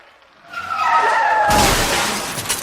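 A car skids with a rising tire squeal, then crashes into a loud burst of shattering impact and debris, close and dramatic like a sound effect, no talk.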